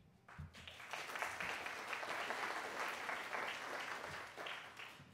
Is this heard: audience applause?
yes